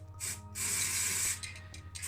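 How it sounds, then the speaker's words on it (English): Novel aerosol automotive paint remover sprayed on a Matchbox Mercedes 300SE in short close hissing bursts, one long sustained spray in the middle, in a quiet room. "I tried to use a Novel spray. It's a paint remover."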